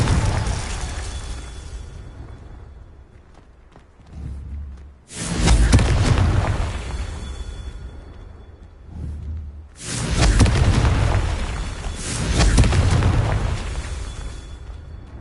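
Repeated Confringo explosion spells in the game Hogwarts Legacy, several loud booming blasts at intervals, each swelling then fading into a low rumble, with no voices.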